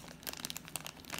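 A plastic bag crinkles as a Tomica toy car is pulled out of it, several quiet, uneven crackles and rustles close by with no talk.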